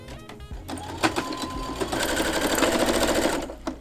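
A sewing machine stitches fringe onto an upcycled garment, running up close in a fast, steady mechanical whir after a few starting clicks, then easing off near the end.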